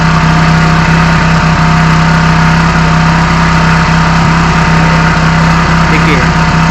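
A motorbike engine held at around 4000 RPM, a loud, close, steady drone with a constant pitch and no change in throttle, and a voice talking faintly underneath.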